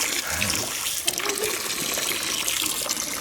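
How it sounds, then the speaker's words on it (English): A garden hose sprays water onto steel weights in a garage, making a steady hissing splash at moderate volume with faint voices in the background. "I don't think I put the water pressure on high enough."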